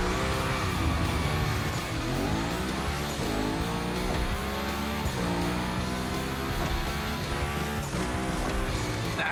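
A car drifts in The Crew Motorfest during a Gymkhana Grid Masters event, its engine revving hard and tires squealing in long continuous slides, loud and close throughout with no talk.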